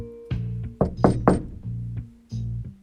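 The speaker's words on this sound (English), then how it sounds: "again someone was at Amu's door" Knocking on a door, several distinct knocks in uneven groups, close and loud, with a sustained musical tone sounding beneath them.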